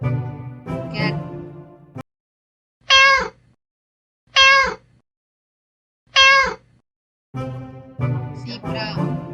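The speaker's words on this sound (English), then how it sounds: "cat," A cat meows three times in a row, each call clear, close and alone with short silences between, set between stretches of other farm-animal calls at the start and end.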